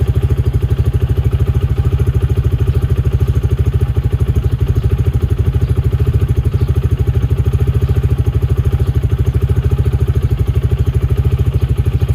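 A 2021 Baodiao BD250-5 EFI motorcycle engine, freshly serviced with valve clearance and spark plug gap set, idles close by with a steady, even, rapid thumping beat and no talk.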